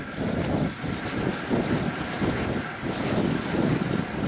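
Strong gusting wind buffets the microphone while cycling on the road, a loud continuous rumble that rises and falls in waves throughout.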